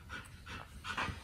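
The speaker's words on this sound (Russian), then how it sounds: "У меня пёсь, она дышит жарко ей." A female dog panting in the heat on a stuffy, hot day, giving quick, breathy huffs in a steady rhythm, faint and close, with no talking over it.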